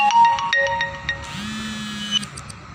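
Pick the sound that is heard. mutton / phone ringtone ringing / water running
phone ringtone ringing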